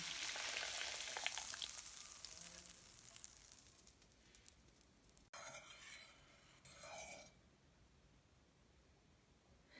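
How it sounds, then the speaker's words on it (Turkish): Melted butter with dried mint poured into a pot of cooked sour meatball stew, raising a loud crackling sizzle that gradually fades, followed by softer bursts of bubbling and hissing. "Bir yemek kaşığı tereyağını erittim. Bir tatlı kaşığı nane yapıyorum. Pişen yemeğimin içine döküyorum."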